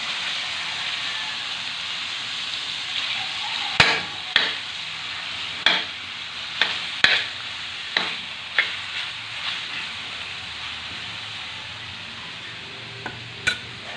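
Fatty ground pork, cooked in its own fat without added oil, sizzles steadily in a pan while a spatula scrapes and taps it in a run of close, irregular strokes, with no voices.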